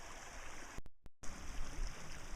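Water spills and rushes along a sloped bisse irrigation channel during spring cleaning, a steady close gurgling flow cut by two brief dropouts, with no voices.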